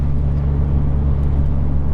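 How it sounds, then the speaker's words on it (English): Steady road traffic in Los Angeles on an early-evening weekday, a continuous loud rumble and whir of passing cars close by, with no voices. "Still a decent amount of cars on the road"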